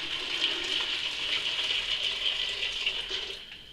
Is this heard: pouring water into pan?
yes